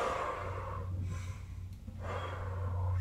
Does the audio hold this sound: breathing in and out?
yes